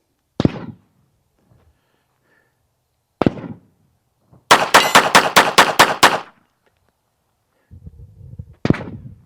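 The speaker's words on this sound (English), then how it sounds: "Let's try some fast shooting with one hand." A Beretta 3032 Tomcat .32 pocket pistol is fired one-handed outdoors: three single sharp reports spaced apart plus a rapid string of about eight loud shots, close, with faint handling noise between.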